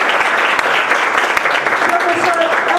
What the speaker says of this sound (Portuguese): uma salva de palmas para o Fernando Ruio.